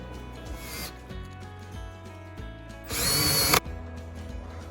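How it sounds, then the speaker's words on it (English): A power drill whirs in a short burst, loud and close, with quieter tool handling before it and a low hum underneath. "We'll need the drill."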